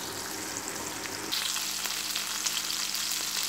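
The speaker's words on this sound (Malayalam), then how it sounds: "ഈ സൈഡും നല്ലപോലെ ഫ്രൈ ആവട്ടെ." Chicken pieces frying in hot oil, a steady close dense sizzle that intensifies briefly partway through, with no talking.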